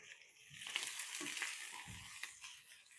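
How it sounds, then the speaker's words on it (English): Onions being tossed and frying in a pan, heard as a steady sizzle with a few scraping stirs and light knocks, close and fairly quiet, with no talking. "Let's give our onions a quick toss."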